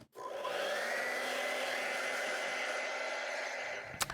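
A hair dryer blows steadily on wet acrylic paint, a close, even whooshing roar that holds for about four seconds and then cuts off with a small click.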